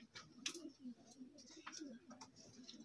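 Soft, low cooing from breeder pigeons kept for sale, several faint throaty coos repeating at close range with light ticking and shuffling around them, while someone talks over them.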